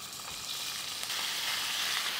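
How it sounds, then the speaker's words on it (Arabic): Ground meat frying in a spoonful of hot oil while being stirred, a steady close broadband sizzle with faint scraping, no voices. "مهم جداً أثناء تقليب اللحمة أضلني أحركها أو أقلبها بهذه الطريقة"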